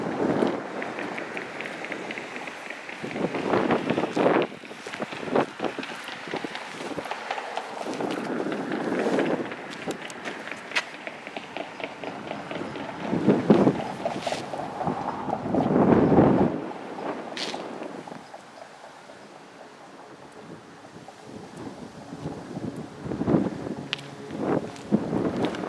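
Gusty wind buffets the microphone outdoors in Waukesha, Wisconsin, in uneven rumbling bursts, loud and close, with rustling rising and falling throughout.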